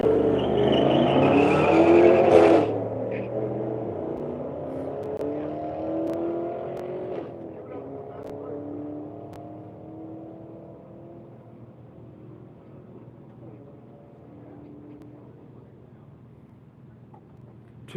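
Drag race cars at a strip, a Camaro in the right-hand lane against an Impala, launching hard with loud engine roar and tire squeal that fades as they pull away down the track.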